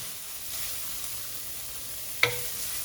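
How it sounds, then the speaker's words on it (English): Onions fry over medium heat in a pan, giving a steady close sizzle with one sharp utensil tap near the end and no talk. "We'll fry until the onions are translucent."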